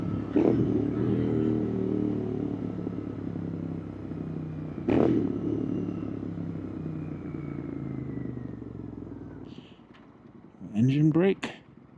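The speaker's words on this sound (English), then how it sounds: "Engine brake." A cafe racer motorcycle slows on engine braking, its engine giving a steady throbbing drone with a brief surge midway, then falling quiet before someone speaks near the end.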